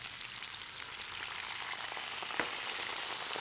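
A pan of Chilean sea bass sizzles steadily as white wine is added, with a hissing, bubbling fry close up and a few sharper spits partway through.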